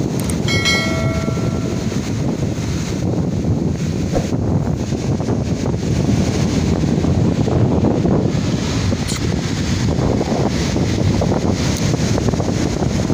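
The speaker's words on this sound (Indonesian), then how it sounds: "wow anginnya kencang banget" Strong wind buffets the microphone by a rough sea with big waves, a loud continuous roaring rumble throughout, with no talk.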